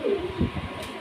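A pair of pigeons gives a short, close, soft cooing call, clear and brief with little else around it.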